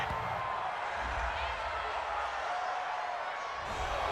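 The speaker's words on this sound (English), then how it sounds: "this crowd does not like that call" A stadium crowd in an American football video game reacts with sustained broad murmuring and booing after a roughing-the-passer penalty goes against the home team, a steady wash of noise at moderate level with no clear talk.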